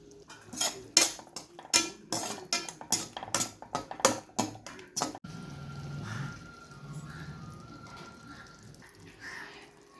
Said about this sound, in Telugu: పచ్చిమిర్చి వేసేసి ఒకసారి తిప్పేద్దాం